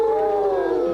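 A human voice imitates a wolf howl in one sustained, wavering tone that slides gently downward, clear and close without other sounds.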